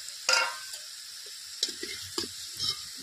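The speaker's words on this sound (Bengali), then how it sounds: "আর মাংসের আলুগুলো ভেজে নেব" Potatoes seasoned with turmeric and salt fry in hot oil, a steady soft sizzle broken by several sharp scrapes and clacks of stirring.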